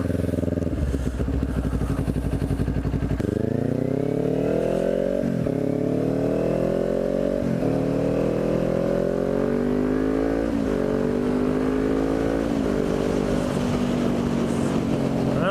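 A Kawasaki Ninja 400 with a freshly repaired clutch accelerates hard. The engine is loud and close, climbing in pitch, dropping briefly at each gear shift, then climbing again through several gears.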